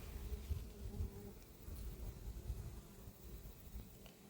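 A low, steady buzz of many honeybees hums continuously up close at the hive, with faint knocks and rustles underneath.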